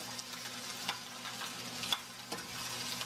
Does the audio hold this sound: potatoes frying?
yes